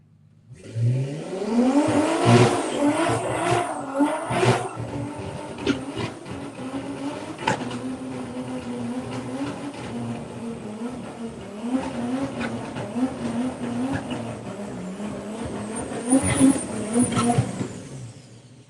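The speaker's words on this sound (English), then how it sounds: "Rocky Daly with the BMW against Harry Gamble with the Mark IV Golf." A BMW and a Mark IV Golf launch side by side on a drag strip, with loud engines revving hard and climbing through gears. The roar fades into a sustained distant drone, then swells again near the end.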